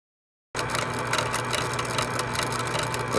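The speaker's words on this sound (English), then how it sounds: "We are spooling what is recommended to be the best 40-pound braid." A line-spooling machine winds 40-pound braided fishing line onto a Penn Fierce Live Liner reel in a fishing supply shop, starting abruptly after silence and then whirring loudly and steadily with a fast, fluttering texture.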